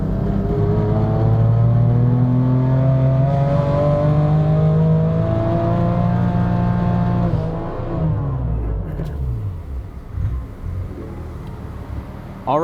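BMW M3 F80 engine held at high revs on a dyno pull, a loud sustained harmonic roar that climbs steadily, then drops off and winds down toward the end, with no talk.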